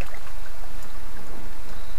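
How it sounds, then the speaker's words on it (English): Old motor oil from a Mazda/Ford 1.8L four-cylinder oil change pours steadily into a jug with a soft gurgling trickle, continuous and close, with no voices. "Simply just pour my old oil"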